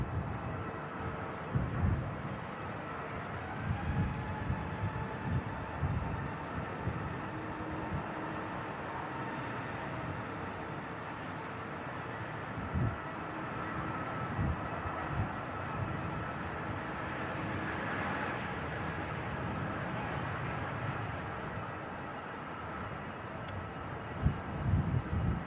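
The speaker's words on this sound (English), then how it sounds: "This aircraft's going to be departing back to Stockholm" A Scandinavian airliner departing Manchester Airport for Stockholm produces a steady, distant jet roar with a broad rumble that swells slightly midway, heard alone outdoors with some wind.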